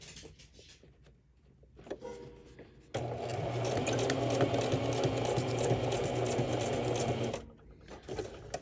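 A sewing machine stitches around an appliquéd whimsical house, a steady close mechanical whirr running about four seconds between brief pauses and handling noises.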